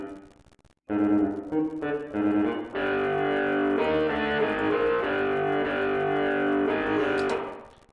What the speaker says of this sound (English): distortion tone, drive.